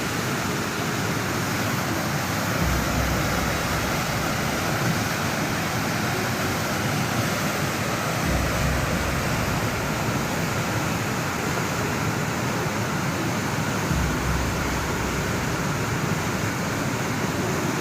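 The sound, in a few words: rushing river water of a flash flood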